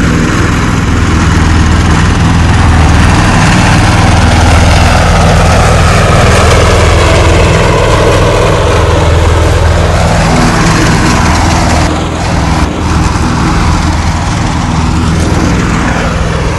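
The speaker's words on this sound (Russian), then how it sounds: "появилась оказия протестировать трактор Husqvarna TC138L" Husqvarna TC138L garden tractor engine running steadily and loud close by, a continuous low mechanical drone with a slight shift in pitch partway through and no talking.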